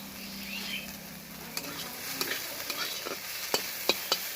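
Fresh radish greens fry gently over low heat in a pan, giving a soft, steady sizzle, with light stirring clicks and taps that grow more frequent toward the end. No one speaks.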